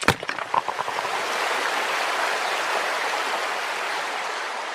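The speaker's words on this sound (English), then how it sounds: "Water comes out" Water gushes steadily from a hole broken in a rock tunnel wall, a continuous rushing flow after a few sharp knocks at the start.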